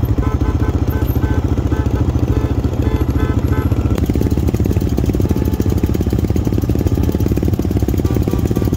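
Motorcycle engine running loud and close, a rapid steady pulsing putter that shifts to a harder, busier firing rhythm partway through and keeps going without pause.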